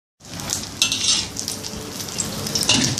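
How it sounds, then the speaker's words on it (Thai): Sun-dried tilapia sizzles steadily in hot oil, a close, continuous crackle broken by occasional clinks of stirring, with no voices. "ปลานิ้นแดดเดียวที่เขาเฮ็ดไว้ก็ได้เวลาทอดแล้วนะคะเขาก็เอามาทอด"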